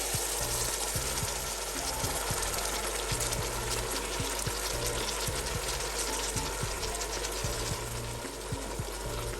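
Chicken frying in a pan as 400 grams of tomatoes go in, a steady loud sizzle and hiss running throughout with a low mechanical hum and rhythmic background noise underneath.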